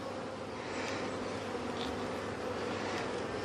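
Honey bees buzzing in an open, busy beehive during a live inspection, a dense continuous drone close by with no talk over it.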